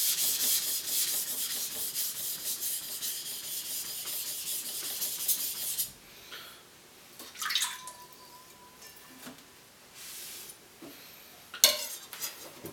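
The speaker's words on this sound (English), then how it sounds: "what this is just using this hand to kind of lightly roll and blend the bevels together" A single bevel Japanese knife rubbed on a sharpening stone gives a steady close scraping rasp for several seconds, then quieter intermittent strokes with a few light metallic clinks, no talking.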